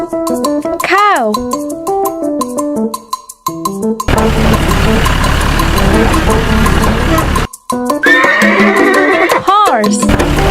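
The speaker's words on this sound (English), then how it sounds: "Horse." A horse whinnies in a children's animal-sound sequence, a loud shrill neigh sandwiched between short bright musical jingles, the animal call dominating the middle of the clip.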